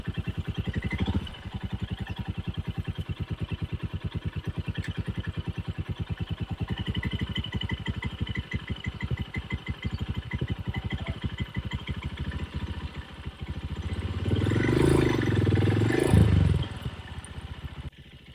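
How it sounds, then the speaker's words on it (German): Royal Enfield Himalayan motorcycle engine running steadily during a start attempt while stuck in sand, a close, continuous rapid thumping idle that swells louder and rougher near the end before dropping off. "Und jetzt nochmal einen Startversuch. Wieder mit Motorkraft."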